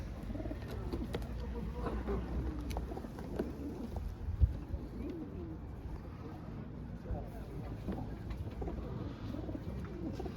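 Soft pigeon coos bubble up amid a busy crowd murmur and talk at a pigeon show at a market in Ivano-Frankivsk, with one brief thump partway through.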